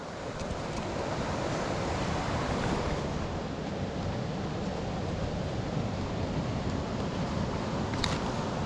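Whitfield Gill waterfall near Askrigg, a steady broadband rush of falling water that fills the whole stretch evenly, close and continuous with no talking.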